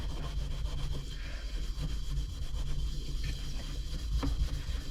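Ultra fine steel wool scrubs years of grime off the metal of a 1957 Oval Window Volkswagen Beetle, giving a steady, close, soft rasping rub that carries on without pause.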